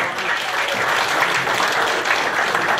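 Steady applause from an audience at a motivational talk by Sifu Mazelan Abas, dense and even in loudness throughout, with no pauses and no talking over it.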